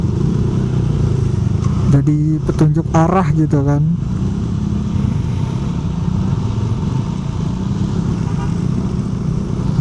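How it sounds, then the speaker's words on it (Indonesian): A loud motorcycle engine rumbles steadily throughout, with a brief burst of talking early on over the noise. "Jadi berisik banget nih motor"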